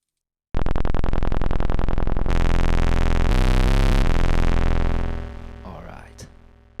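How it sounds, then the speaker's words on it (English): A harsh, buzzy synth waveform from a Polyend Tracker is run through delay and reverb, a loud sustained droning tone that shifts pitch in steps and then fades into a trailing reverberant tail. "delay and reverb"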